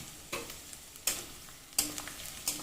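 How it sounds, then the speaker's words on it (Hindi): Chana dal with crushed ajwain roasts lightly in a pan, a soft low sizzle punctuated by four distinct stirring scrapes at even intervals, quiet and close with no voices. "अब इसे हल्का सा हमें भूनना है।"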